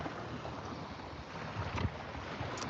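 Ocean waves wash and rumble in a steady broadband roar, with wind buffeting the microphone and a slightly louder surge near the end, no voices.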